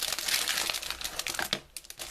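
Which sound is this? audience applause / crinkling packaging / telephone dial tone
crinkling packaging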